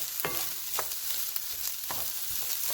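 Rice is stir-fried in a pan for a simple breakfast fried rice, a soft continuous sizzle broken by a few sharp scrapes and clinks of the spatula against the pan, with no voices.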